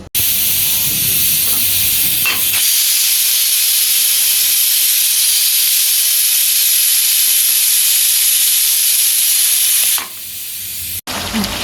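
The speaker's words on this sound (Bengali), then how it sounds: "এবার কুকারটা কয়েকটা সিটি দিয়ে নামিয়ে নেব" A loud, continuous hiss of escaping steam from a pressure cooker cooking beef, holding steady for several seconds before cutting off abruptly near the end.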